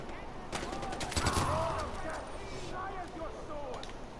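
Bursts of AK-47 rifle fire from the video game Far Cry 4, sharp repeated cracks scattered across the moment, mixed with game sounds and someone talking over them.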